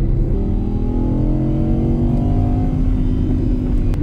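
An Audi R8 supercar engine revs steadily at close range, a loud sustained mechanical drone with rising harmonics and no voices over it.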